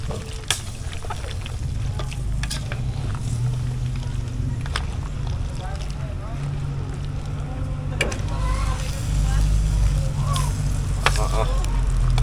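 Coconut milk bubbling and sizzling in a frying pan as it is stirred, heard close and steady with occasional scraping clicks of the utensil. Faint talk sits in the background.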